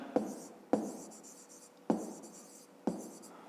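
Pen writing on paper during a fifth-grade maths exercise: four sharp scratchy strokes, each starting with a crisp tap and trailing off, close and clear with no voice.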